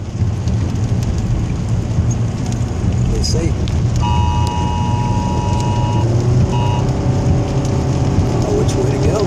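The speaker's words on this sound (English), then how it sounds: "you can hear the tornado sirens going off here in town." Tornado warning sirens sound steady, sustained tones across town during a storm, heard from a vehicle over rain and engine rumble, with brief speech.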